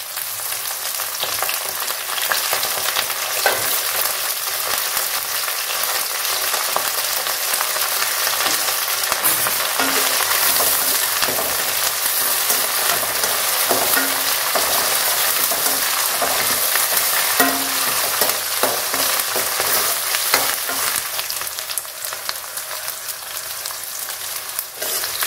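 Curry leaves crackle and spatter in hot oil for a village-style fish curry, a dense, loud, continuous sizzle with sharp pops running the whole time and no talking.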